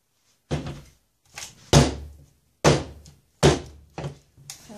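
A cold process citrus soap mold is banged on a hard surface to settle the soap, six solid, hollow thunks at uneven intervals with short gaps of silence between them.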